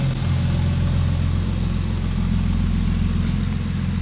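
Built Nissan VQ engine idling with its exhaust valve closed, a steady, deep, even low rumble close by that stays constant throughout with no talking.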